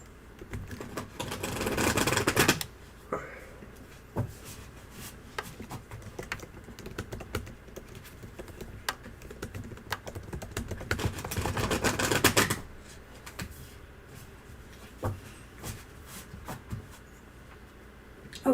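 Rapid keyboard typing clatters on and off, with two denser, louder stretches of fast keystrokes and lighter scattered taps in between; no speech.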